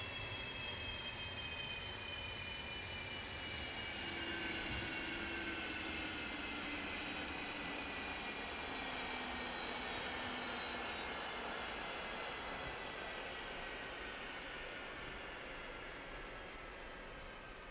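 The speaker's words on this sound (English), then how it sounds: "Let the engines cool down, spool down completely." Twin jet engines of an F/A-18 in the DCS flight simulator winding down after landing, a steady broad whine with slowly falling tones, loud and continuous throughout with no voices.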